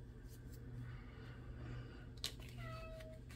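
A cat meows faintly in the background, a short, thin sliding cry heard late over low room hum.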